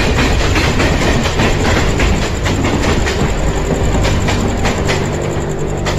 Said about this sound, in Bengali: আর সঙ্গে সঙ্গে সামনে দিয়ে রেলগাড়িটাও গর্জন করতে করতে বেরিয়ে গেছে।